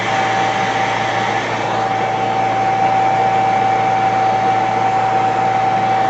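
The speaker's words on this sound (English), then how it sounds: "home hair dryer." A home hair dryer, used for drying clay and glazes, whirs continuously with a steady airy roar and a constant high whine, unchanging throughout.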